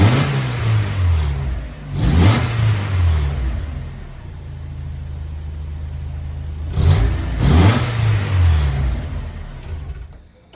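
A Mazda Miata with a hollowed-out catalytic converter revs twice, each burst rising in pitch and falling back to a steady idle, loud and close with no talking.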